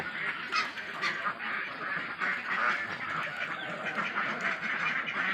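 Ducks quacking continuously at a farm during morning duck egg collection, a busy overlapping chorus of calls at moderate distance, steady throughout with no pause.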